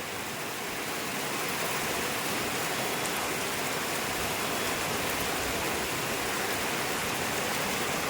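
Rain has just started falling: an even, full-bodied wash of rainfall that stays constant from start to finish, with no voices.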